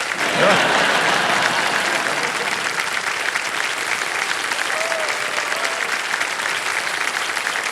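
Studio audience on a televised quiz game show clapping steadily, loud sustained applause with a faint background voice.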